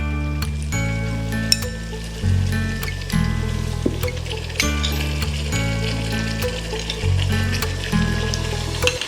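Tomato paste with mint and coriander leaves frying in a pot for Thalassery chicken biryani, a soft continuous sizzle under background music with a few clinks.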